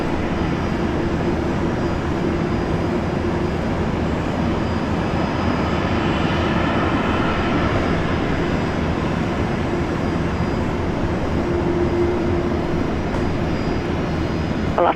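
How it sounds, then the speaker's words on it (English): A Jetstar passenger jet on a direct flight from Osaka arrives at Brisbane International Airport at sunrise, its broad continuous engine roar loud and steady throughout, with no pauses or talk. "Flight 24, Jetstar. Direct flight from Osaka into Brisbane."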